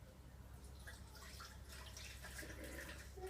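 Water pours steadily into the reservoir of a Beaba Babycook Duo baby food maker, filling it to level 3 for cooking potatoes, a soft continuous trickle with faint drips, close and quiet throughout.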